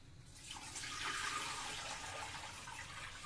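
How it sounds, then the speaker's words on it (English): Water pours steadily into a Thermomix bowl, a continuous rushing splash that holds at an even level with no talking over it. "now we need 900 grams of water in the Thermomix"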